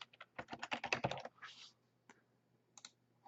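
Quick keystrokes on a computer keyboard, a burst of a dozen close clicky taps that stops, followed by a soft rustle and a few scattered faint clicks while a Control K shortcut is pressed.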